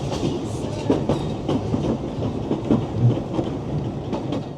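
A narrow-gauge train pulls away from Dolgoch station in Wales with a loud, continuous rumble and irregular clanks and rattles of the carriages, heard from on board.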